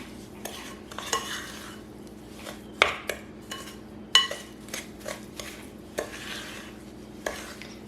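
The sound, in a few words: creaming butter and sugar with a spoon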